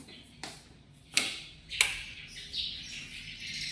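Several sharp bird chirps ring out in a small, echoey bathroom, a few distinct calls spaced apart, followed by softer twittering.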